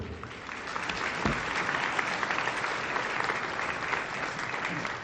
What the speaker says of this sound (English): Would you please give a major round of applause to the mayor of Woodbridge, John McCormick.